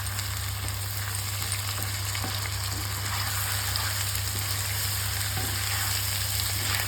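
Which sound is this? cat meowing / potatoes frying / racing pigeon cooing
potatoes frying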